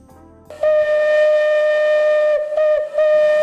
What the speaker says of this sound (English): the whistle of the locomotive spins the wheels of history back into the previous century.